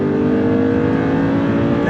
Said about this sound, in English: you hear the sound of that V8?